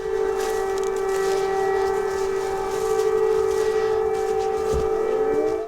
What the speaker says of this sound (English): Every Saturday at noon, they test the alarm systems